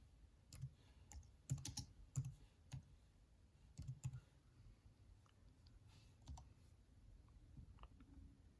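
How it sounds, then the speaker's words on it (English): Typing on a computer keyboard, with irregular bursts of quiet key clicks and pauses, faint and close, with no talking. "I'm gonna type in."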